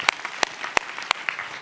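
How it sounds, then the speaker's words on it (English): A handful of sharp, separate hand claps from an audience at an event, spaced unevenly over a second and a half, with no steady crowd roar. "Give him a big round of applause."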